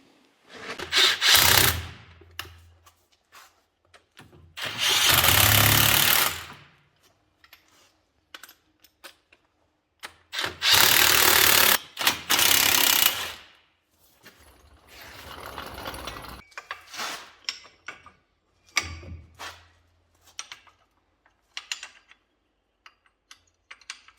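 Hand tools work on the steel discs and friction plates of a tractor power take-off, giving bursts of metallic rattling and ratcheting separated by quieter clicks and clinks, close up and with no talk.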